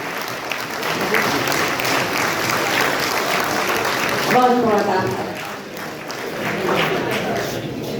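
An audience at a government education event applauds loudly and steadily, clapping filling the hall for several seconds, while a voice speaks over it partway through.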